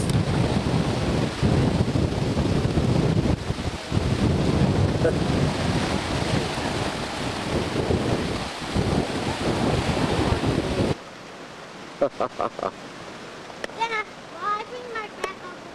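Strong wind roars across a microphone on a beach by the ocean on a sunny morning, a loud steady buffeting with surf that drops off abruptly near the end, leaving faint wind and a few short vocal sounds.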